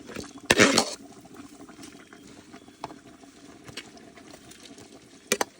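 Soaked basmati rice is tipped into a kazan of meat for plov cooked over a grill: a short, loud rushing pour near the start, followed by quiet sizzling and a few faint clinks.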